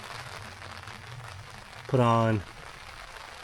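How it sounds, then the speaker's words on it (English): Rain pattering at a mountain campsite beside a pond, a faint steady hiss throughout, briefly covered when someone speaks a couple of words partway through. "It has started to rain."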